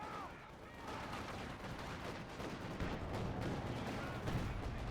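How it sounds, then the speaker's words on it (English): Mortar shelling in a real-time strategy match, with repeated muffled booms and crackling impacts blending into a dense, steady wash of battle noise at moderate level throughout. "double mortars in now"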